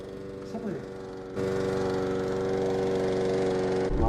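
A lawn mower engine starts up and runs steadily at a loud, even drone, following a quieter stretch with faint sounds before it kicks in.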